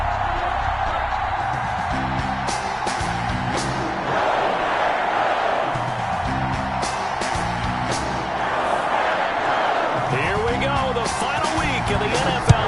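Stadium crowd roaring before a San Francisco 49ers vs Green Bay Packers NFL Week 17 game, a loud sustained wash of cheering with rhythmic chant-like swells and music underneath, steady throughout.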